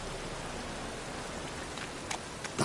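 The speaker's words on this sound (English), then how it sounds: "It just rains and rains" Faint, steady rain hissing in the Witcher 3 game world, an even wash of drops with a couple of slightly louder spatters toward the end and no other sounds.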